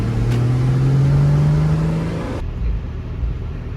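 Porsche Boxster convertible driving through downtown Phoenix with the top down, engine note rising steadily under wind roar, then the pitch drops away as it eases off near the end.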